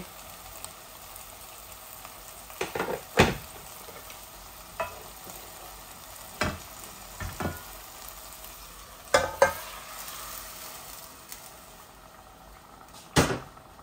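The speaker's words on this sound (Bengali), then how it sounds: "এই যে আমি মাছগুলা ঢেলে দিচ্ছি, প্রথম মাছগুলা ঢেলে দেই" Hilsa pieces for a sour curry with tomato and apple fry in a hot pan with a faint, steady sizzle, broken by scattered utensil knocks and clatters.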